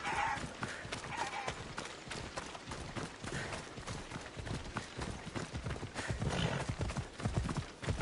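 A horse galloping in the video game Assassin's Creed Odyssey, loud rhythmic clip-clop hoofbeats over continuous game ambience with a whinny near the start, close and sustained.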